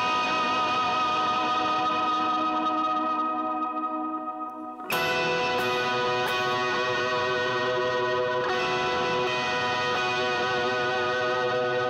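Electric guitar plays a ringing harmonic intro line for a worship song, driven with boosted high gain and washed in delay and reverb; sustained tones swell, then a bright attack near the middle brings a fuller, echoing passage, with no talking.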